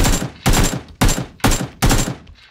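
AK rifle fire in PUBG: five loud, close, sharp shots in quick succession, each with a short ringing decay, no voices over them.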